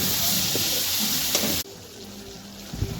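Ripe red tomatoes frying in a pan for chicken and bamboo shoot curry, a loud close sizzle that suddenly drops to a quieter simmer with a few faint clinks, no talking.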